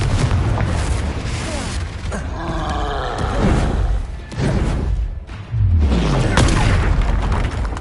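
Confringo fire spell blasting in the Hogwarts Legacy video game, heavy booming explosions with roaring rumble, loud and close, repeating several times across the clip.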